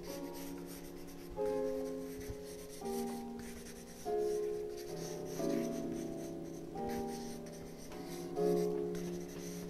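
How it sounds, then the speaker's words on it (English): An ordinary everyday pencil scratches across paper in a drawing lesson, coming in a series of separate scribbling strokes of a second or so each, fairly close and moderately loud, with no talk. "I'm just using a normal pencil, everyday simple pencil."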